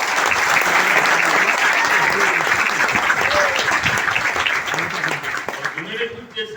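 Loud, sustained applause from a large crowd at a marketing company event fills the clip, fading slightly toward the end.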